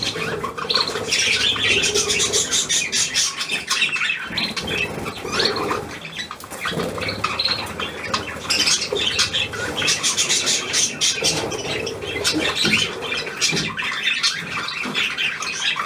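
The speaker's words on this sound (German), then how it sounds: "Verdammter Vogel, du." Budgerigars squawk and chatter loudly and continuously at close range, with bursts of fluttering wings and scrabbling throughout.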